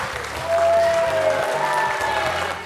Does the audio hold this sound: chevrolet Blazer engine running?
no